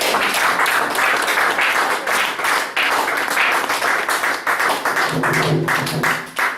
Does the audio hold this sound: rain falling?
no